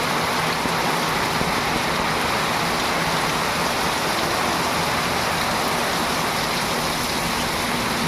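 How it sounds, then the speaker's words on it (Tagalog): Heavy rain pours down in a dense, unbroken roar, loud and steady throughout with no voices. "Lakas ng ulan mga kalingap ko."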